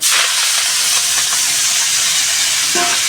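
Chopped leaves poured into a wok with a little hot oil, producing a loud, steady hiss and sizzle that continues throughout, with a brief clatter near the end.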